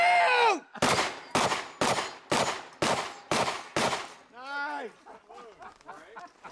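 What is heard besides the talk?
shotgun shots at an action shooting match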